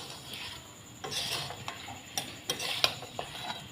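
Chicken with spices and potatoes stirred and fried in a pan, giving a quiet sizzle with occasional utensil scrapes and clinks against the pan, faint and close, no voices.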